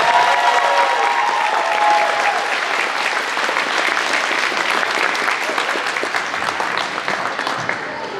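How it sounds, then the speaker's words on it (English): Audience applause for the musicians at a school band and orchestra winter concert, a loud, steady, sustained wash of many hands clapping with faint crowd murmur underneath. "How about one more big round of applause for all of our musicians tonight?"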